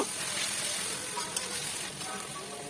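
Onion and garlic paste sautéing in oil for a crab curry, a dense steady sizzle with faint stirring clicks, close and continuous, no voices.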